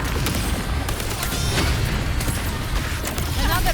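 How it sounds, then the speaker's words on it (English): Mortar shells exploding in the video game Wuthering Waves, a dense, continuous rumbling barrage of booms that stays loud throughout, with faint voices and game sound mixed in. "Another mortar thrown at us"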